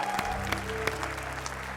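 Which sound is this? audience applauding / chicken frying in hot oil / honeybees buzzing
audience applauding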